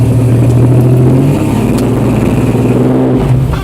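A 4x4 truck engine revs hard and steadily as it strains to climb a dirt trail in two-wheel drive, a loud, close, sustained drone that holds its pitch before rising slightly near the end.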